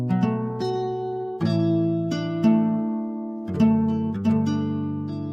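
Dry acoustic guitar from the free Vinyl Guitar 2 plugin, with no reverb, plays a series of plucked chords about every second; each attack is crisp and rings out briefly before the next, close and clear with no voices.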